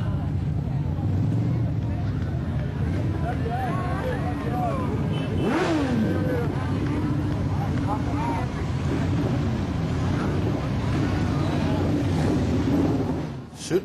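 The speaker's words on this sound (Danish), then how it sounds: "tusinder af motorcykler triller gennem Københavns gader fra Nørrebro og kører nordpå af Strandvejen" Thousands of motorcycles roll through Copenhagen streets from Nørrebro toward Strandvejen for the Bakken opening, a dense, steady engine rumble with passing revs and traffic noise, loud and continuous throughout.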